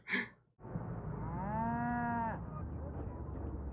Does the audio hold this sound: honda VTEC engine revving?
no